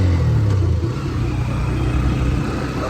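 A vehicle travels fast at around 100, its engine giving a loud, steady roar and low rumble, with the pitch dipping early and then holding as it drives on.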